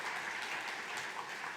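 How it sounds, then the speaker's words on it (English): Audience applause for board members at a member meeting, a steady dense patter of many hands clapping that stays even and moderately loud throughout the short stretch, with no voices over it. "a round of applause for them"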